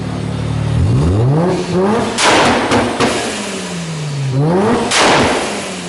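A Mazda RX-7 FD rotary engine revs hard on a two-step launch limiter, with rising pitch sweeps and sharp popping bursts, loud and close, repeating twice over several seconds with no talk.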